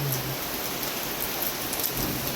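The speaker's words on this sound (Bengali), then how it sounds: "বৃষ্টি নেমে এলো" Rain falling steadily, a dense, even hiss of drops on surfaces, close and continuous with no voices.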